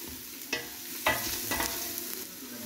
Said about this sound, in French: Alors on fait revenir les oignons.